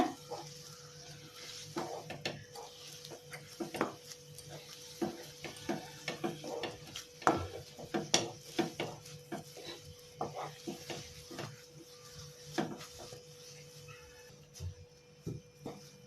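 Moong dal halwa cooked with milk is stirred in a pan, producing a continuous run of rhythmic scraping and soft knocking strokes, close and moderately loud.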